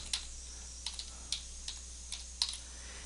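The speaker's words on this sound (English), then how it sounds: "you could, if you wanted to, type in the name of a company" A company name is typed on a computer keyboard as a handful of separate, sparse keystrokes. The clicks are close but soft and spaced unevenly against a quiet room hum.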